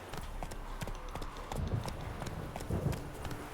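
Hoofbeats of Roach, the horse in The Witcher 3, galloping in a steady clip-clop rhythm, fairly close and moderately loud, with a faint bed of game ambience behind.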